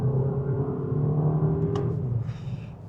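A VW Tayron 2.0 TSI engine holds a steady low drone, pulling hard at full throttle under load, with a brief higher whine near the end as it shifts.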